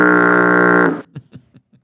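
A foghorn sounds on a foggy morning as a loud, steady, sustained blast that lasts about a second and cuts off abruptly, followed by a few faint short sounds.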